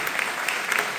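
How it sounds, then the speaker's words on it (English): Steady applause from an audience, a dense patter of clapping with no voices standing out. "can we give a round of applause for our panelists who were wonderful?"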